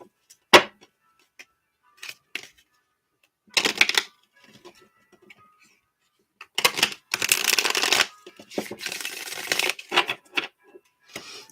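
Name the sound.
shuffling a labyrinth tarot card deck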